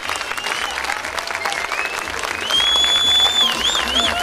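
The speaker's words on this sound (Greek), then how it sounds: "Ζεστό χειροκρότημα για τα παιδιά μας" A crowd at a children's gymnastics display applauds warmly. The steady clapping grows louder partway through, and shrill whistles and voices ring out over it.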